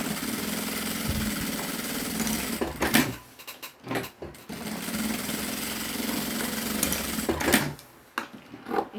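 A sewing machine stitches a pocket for a bag in steady mechanical runs, broken by short pauses and clicks as the fabric is repositioned, heard close and alone.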